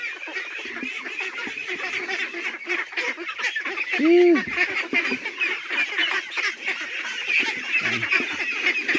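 Ducks eating azolla give a few nasal honking quacks over a busy background of splashing, dabbling and chatter, with one louder call standing out partway through.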